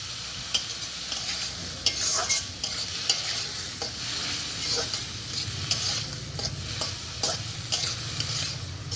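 Shrimp frying in a pan for fried rice, a steady close sizzle with repeated stirring scrapes and light ticks across the whole stretch, no voices.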